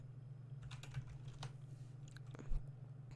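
Typing on a computer keyboard, a quick run of light, close key clicks with a few gaps and one firmer tap near the end, quiet over a low steady hum.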